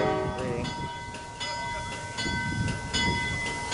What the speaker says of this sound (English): here goes SG train